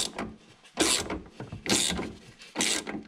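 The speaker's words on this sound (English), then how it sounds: "As you can watch the wrench up there, it's going in a tightening direction" A wrench turns a nut on a sway bar link of a C6 Corvette, giving three bursts of rasping ratchet clicks in an even rhythm, close and moderately loud.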